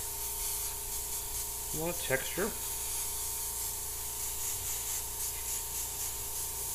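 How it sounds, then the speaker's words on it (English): An airbrush sprays paint through a skull stencil, a soft continuous hiss sitting quietly under a brief spoken remark. "So we're just going to spray a light,"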